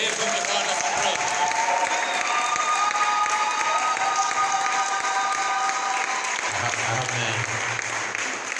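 A church congregation at a Sunday service gives a sustained, dense round of applause with some cheering, loud and continuous throughout, with a voice faintly heard over it near the end.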